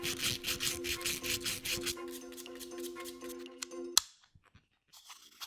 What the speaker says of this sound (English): I think I'm gonna have to sand this a little bit.